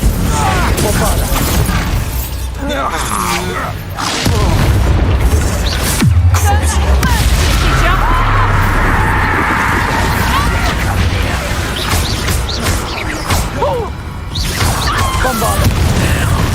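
Bombarda explosion spells go off in a Hogwarts Legacy fight, heavy booming crashes and bursts in a loud, steady battle din, with several impacts through the clip and voices speaking over it.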